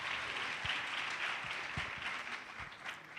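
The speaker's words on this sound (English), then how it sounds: "Let's give them a round of applause." Audience clapping at a Transnet apprentice training event, a steady wash of applause from a crowd, moderately distant and even throughout.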